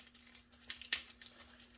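Dried rose buds snapped off their stems by hand give quiet, close crinkling and crackling, with one sharper, louder snap near the middle.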